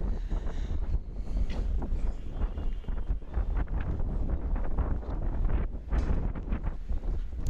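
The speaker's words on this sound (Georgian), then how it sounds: "ძალიან ძლიერი ქარია და ჩამწოდებელს უშლის" Strong gusty wind buffets the microphone during an outdoor Davis Cup tennis match between Georgia and Lithuania, a loud rumbling roar with rustling bursts that carries on throughout.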